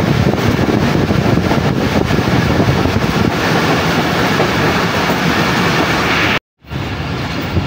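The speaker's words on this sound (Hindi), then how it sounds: "इस वक्त हमारी ट्रेन यूसा वाला रेलवे स्टेशन स्किप कर रही है" A passenger train rolls through Usa Wala railway station in Pakistan without stopping, a loud continuous rumble and clatter of wheels on rails with wind buffeting, cutting out briefly near the end before resuming.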